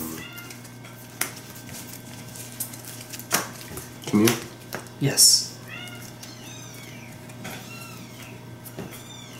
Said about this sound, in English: Your kitten sounds so cute.